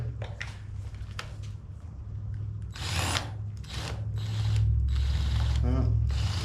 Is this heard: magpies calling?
no